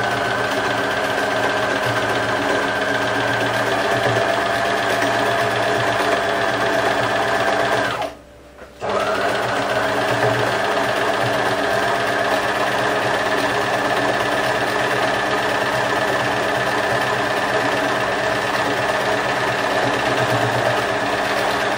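A sewing machine stitches a line in rapid, steady mechanical whirring, close and loud. It stops for about a second midway, then resumes, and no one talks over it.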